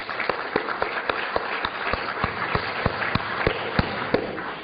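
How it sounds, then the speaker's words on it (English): Keynote audience applause in a lecture hall: a steady patter of many hands clapping, moderately loud, with a few sharper individual claps standing out and no talking. "I think that deserves a round of applause"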